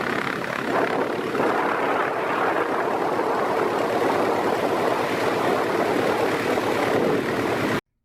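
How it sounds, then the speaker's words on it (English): A small propeller plane's engine running loud and close, a steady roaring drone with wind buffeting, cutting off abruptly at the end. "we can hear the engine turn on and watch the propeller as it starts to turn"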